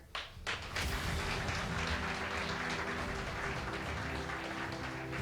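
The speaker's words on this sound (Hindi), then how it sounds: "दोस्तों, तालियां ऐसी बजनी चाहिए" An audience at a motivational seminar breaks into applause after a few scattered opening claps, then holds a dense, sustained roar of clapping that fills the room.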